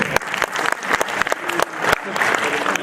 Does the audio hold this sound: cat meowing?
no